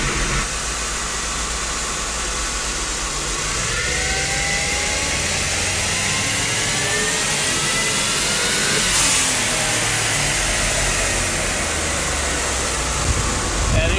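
Supercharged Cadillac Escalade engine pulls hard through the gears into fourth, a loud sustained roar with rising tones and a brief shift around midway, heard from inside the cabin with continuous road and wind noise.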